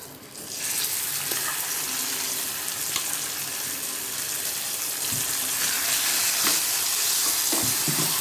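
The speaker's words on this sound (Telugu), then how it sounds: "ఇవన్నీ మనకు మంచిగా ఫ్రై అయిన తర్వాత ఈ గోంగూర మిక్చర్ అందులో యాడ్ చేసుకోవాలి." Gongura chutney mixture sizzles loudly and steadily in a pan while being stirred, with frying crackle throughout and occasional scraping and knocking from the spoon close by.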